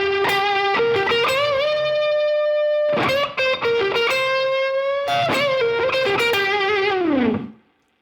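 Electric guitar lick in minor pentatonic, played with overdriven distortion: bursts of picked notes and long sustained bends with vibrato, loud and solo, in three phrases that fade out at the end.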